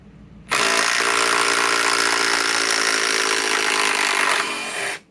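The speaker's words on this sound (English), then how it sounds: "And that was with the METABO. This is the bolt, the WH18DC triple hammer bolt" A Metabo HPT WH18DC triple hammer impact driver backs out a 5-inch lag bolt, a loud, continuous buzzing hammer rattle running for several seconds before dropping off and stopping abruptly.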